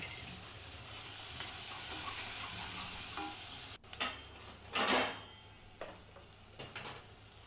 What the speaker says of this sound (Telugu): పచ్చిమిర్చి వేగిన తర్వాత పసుపు వేసి వేగించిన తర్వాత ఉల్లిపాయ ముక్కలు కూడా వేసి వేగించి